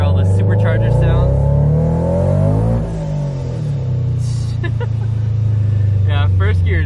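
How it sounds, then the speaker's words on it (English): A supercharged Toyota FRS accelerates hard under full throttle, its engine note and supercharger whine climbing steadily in pitch, close and loud, then easing at a shift before rising again. "We'll do a little pull over here, hear all the supercharger sounds."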